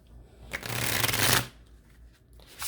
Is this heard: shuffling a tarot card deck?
yes